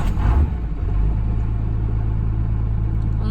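A 12-valve truck engine turns over and catches, settling into a steady low rumbling idle close by with no talk.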